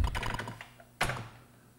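Keystrokes on an Atari computer keyboard typing the fdisk command: a quick run of close, moderately loud clicks and taps, then one firmer thunk-like key press and a short fade, with no voices.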